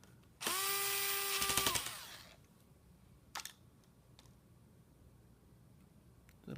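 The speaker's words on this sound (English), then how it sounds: "Screw down the fan." A small electric screwdriver whirs for just over a second while driving a screw into the fan of a Lenovo Yoga 11e Gen 2 laptop, followed by a few faint clicks and taps in a quiet room.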